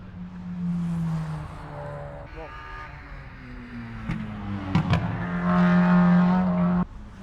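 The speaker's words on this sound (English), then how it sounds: "There's another moving car." Cars move past at a JDM car show in Australia, engines rising and falling as they accelerate and rev, one louder burst close by near the end, with a brief tire chirp.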